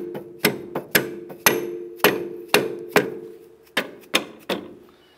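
Hammer tapping a clevis bolt into line on a 2002-2007 Jeep Liberty shock and spring assembly: about ten sharp metallic strikes in an uneven rhythm, close and loud, each with a short ringing decay.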